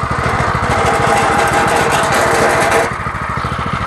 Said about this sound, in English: Hit the key, see if it'll start.